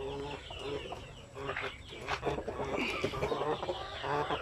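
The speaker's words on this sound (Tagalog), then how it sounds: "Yan yung roster na ginagamit ko doon, oh." A native Basilan rooster and hens on a backyard poultry farm crow and cluck close by, with overlapping bird calls throughout and faint voices mixed into the background.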